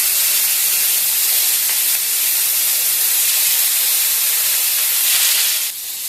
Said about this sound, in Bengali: এপাশে আমার মাছ ভাজাটা হচ্ছে